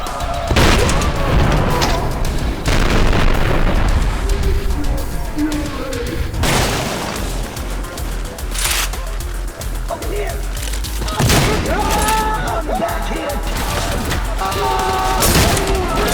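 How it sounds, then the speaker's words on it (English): Grenade launcher blasts in the shooter game Trepang2, repeated heavy booms and bursts landing every few seconds amid gunfire, loud and dense, with a voice speaking over the action. "he's using the grenade launchers to their advantage"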